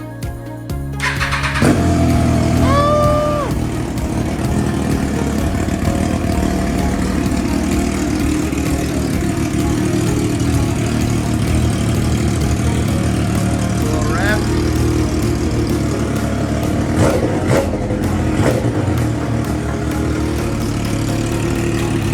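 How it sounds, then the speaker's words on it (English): A Triumph Daytona 675 sport motorcycle, recovered after being stolen, cranks and fires up, then settles into a loud, steady idle with occasional small throttle blips, close by. "let's go ahead and get a start up here for you."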